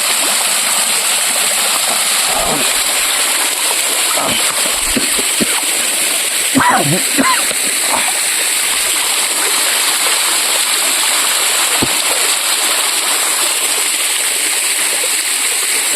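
Water in a stream rushes steadily and loudly throughout, with a few faint voices briefly audible in the background.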